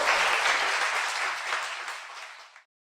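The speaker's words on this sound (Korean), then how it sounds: "박수 부탁드립니다." Studio audience applause at a Korean talk-show taping, a dense, steady wash of clapping that fades and stops abruptly near the end, with no voices over it.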